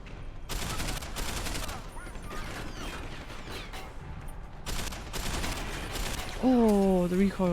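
Rapid bursts of gunfire crack out in the video game Deus Ex: Human Revolution, several loud volleys separated by short gaps, with mechanical clatter between them and a voice briefly reacting near the end.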